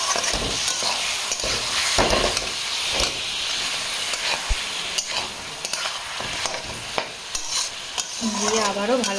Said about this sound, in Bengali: দিয়ে আবারও ভালো করে কষে নেব